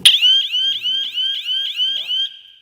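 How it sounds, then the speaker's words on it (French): Power-on default alarm signal from a 99-zone home alarm control panel: a loud, shrill electronic warble pulsing about eight times in quick, even succession, then cutting off. "Vous avez un signalement par défaut de l'alarme."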